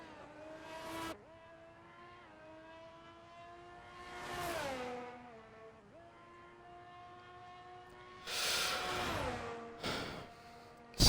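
A Ferrari race car on a flying lap in a racing game, its engine a steady harmonic whine that climbs and dips through gear changes, with rushes of wind or passing noise, fairly faint and without talk.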